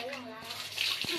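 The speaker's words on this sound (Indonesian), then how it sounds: "Kita bersihkan, kita siram aja karena ini kan barang pabrik tuh." Water rinsing factory-made aquarium decorations for a simple aquascape, a broad close splashing wash with a couple of brief stronger gushes near the end.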